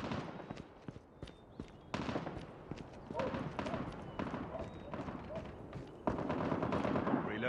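Gunfire crackles in a video game hardpoint match: rapid automatic bursts and single shots come in irregular clusters, fairly close and loud, with voices heard between the shots.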